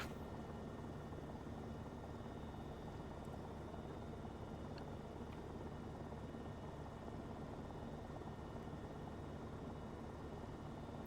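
An AS50 helicopter in a flight simulator game flies steadily, its rotor and turbine drone holding at one even level for the whole stretch, heard alone with no voices over it.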